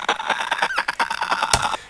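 Original creature voice of the clicker from a video game, a rapid train of harsh, rasping clicks and throaty croaks, loud and close, with a sharp burst near the end, heard alone.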